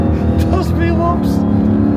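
A Dodge Challenger SRT Hellcat 6.2 laps the Nürburgring Nordschleife with a loud, steady engine drone heard from inside the car. People talk over the engine throughout.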